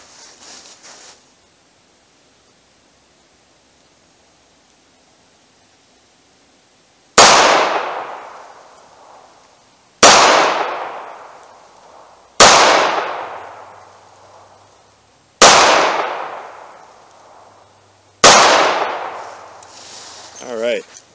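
Five loud, close gunshots from a snub-nose revolver fired at a target, spaced a few seconds apart, each a hard crack with a ringing decay, after a quiet stretch.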